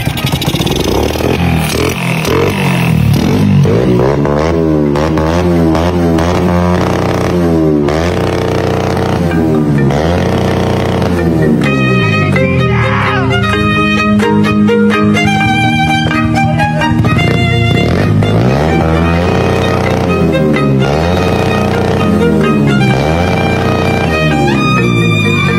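A Honda Dash 110 superstock motorcycle engine runs loud and close, revving up and down repeatedly with rising and falling pitch sweeps over a rough, buzzing idle.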